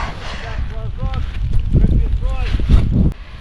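Strong wind buffets the microphone in a steady low roar on open first ice while ice fishing, with a person speaking over it and bursts of gusting noise.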